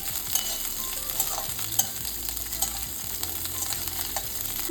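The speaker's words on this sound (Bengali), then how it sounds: "লাইটলি ভেজে নিলাম উচ্ছেগুলোকে" Slices of bitter gourd fry lightly in oil for Bengali shukto, giving a steady close sizzle with soft stirring scrapes and small crackles throughout, with no voices.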